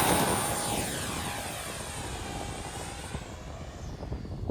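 A small RC jet with 50mm electric ducted fans passes overhead in windy weather, its high whooshing whine sweeping through changing pitch while the roar stays loud and slowly fades.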